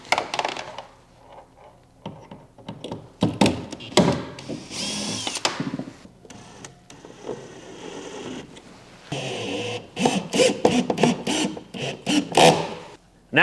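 A power drill backs out factory dummy screws from a kayak fitted with a TitanX 12.5 steering kit, in several short whirring bursts with brief pauses, plus clicks and small rattles of handled parts nearby.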